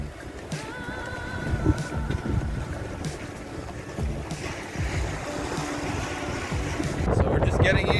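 Gusty wind roars across a sailboat's open deck near Grenada, rushing steadily with water sloshing beneath and a voice speaking faintly, growing louder near the end.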